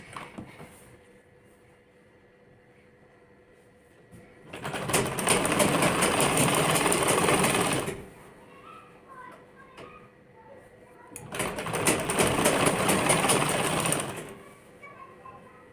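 Two separate runs of a sewing machine stitching a wide kurti hem, each a loud, steady whir of about three seconds, with quiet room tone and faint bird calls between them.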